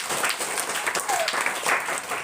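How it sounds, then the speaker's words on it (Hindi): Students at a school prize distribution clap for a second-place winner, a dense, even patter of many hands filling the room without pause while a voice speaks faintly beneath. "इसके लिए जोरदार ताली मारिए"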